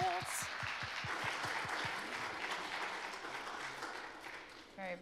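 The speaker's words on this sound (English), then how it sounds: "A round of applause." An audience claps after a talk at a tech meetup, a dense, steady round of applause filling the room for several seconds, with a voice briefly heard over the start.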